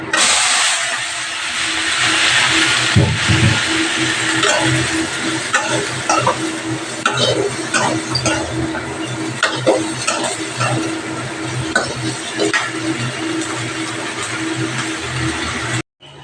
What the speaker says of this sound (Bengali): বেগুন কুচিয়ে নিয়েছি, দেখো ভাজা করবো।